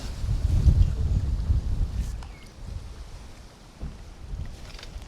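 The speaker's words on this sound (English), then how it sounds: "Now it's very windy today" Wind gusts buffet the microphone beside a lake with a low, rumbling roar that swells and fades, steady outdoor blowing with no voices.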